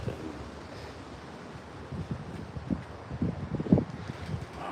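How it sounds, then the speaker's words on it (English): Wind gusts outdoors during a spoon carving session, a low rumbling buffet against the microphone that swells and rustles more strongly toward the end. "wind is really blowing"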